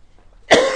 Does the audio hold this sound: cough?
yes